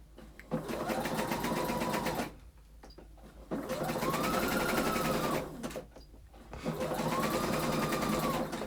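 A sewing machine stitches elastic onto a muslin piece in three close, loud bursts of fast whirring, each run rising and settling in pitch, separated by short quiet pauses.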